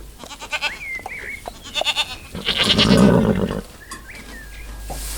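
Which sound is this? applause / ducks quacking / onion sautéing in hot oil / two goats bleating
two goats bleating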